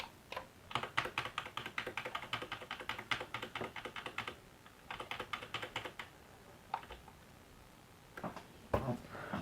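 Rapid clattering keystrokes on a computer keyboard attached to a desktop PC, typed in bursts with brief pauses, close and fairly quiet, with no talking.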